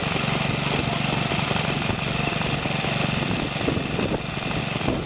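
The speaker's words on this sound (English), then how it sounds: "First of all, we have a Swan generating set." A Swan generating set driven by a Villiers engine runs steadily at a show of stationary engines, a continuous close, loud mechanical chugging with a rapid even beat and no talk over it.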